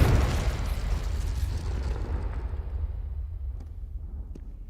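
A single loud, deep explosion from a Confringo blasting spell in the game Hogwarts Legacy, with a booming onset that rumbles and slowly fades over several seconds.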